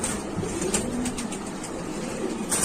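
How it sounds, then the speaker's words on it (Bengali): Pigeons kept in a pigeon shop give soft, low cooing calls, with faint chatter and background noise around them. "অনেক চঞ্চল কবুতর গুলা"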